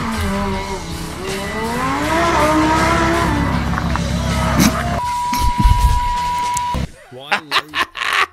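Supercars race and accelerate on a road, engines rising in pitch through gear changes with tire noise, under someone talking over them, then sharp bursts of revving near the end.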